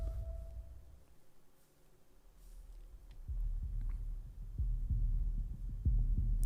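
Slow low thumping heartbeat pulses in a Warhammer 40k trailer soundtrack, faint at first, then growing louder and more regular over a deep hum.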